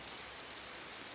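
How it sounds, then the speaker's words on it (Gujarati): Steady rain pours down in a dense, even hiss of drops hitting surfaces, with no break and no voices. "વરસાદ ચાલુ થઈ ગયો જોઈ લ્યો"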